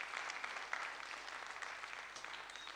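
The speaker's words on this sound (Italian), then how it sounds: "Avete sentito gli applausi" Faint applause from a theatre audience at the Teatro Trianon during a Neapolitan talent show evening, a soft steady patter of clapping heard from a distance.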